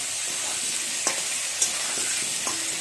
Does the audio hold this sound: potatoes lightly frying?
yes